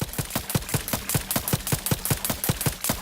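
Rapid automatic gunfire in the video game Outer Worlds 2, a steady rhythmic burst of roughly four or five shots per second, loud and continuous with no voices over it.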